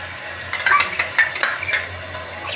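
Ginger, garlic and green chili paste hitting hot oil on a high flame, giving a steady close sizzle with a few spatula scrapes and stirring clinks over a low hum.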